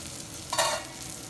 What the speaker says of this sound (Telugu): ఇది మూత పెట్టి వేయించుకుందాము. ఒక్కొక్కసారి పచ్చిమిర్చి మనకి పైకి చిట్లే ఛాన్సెస్ ఉంటాయి.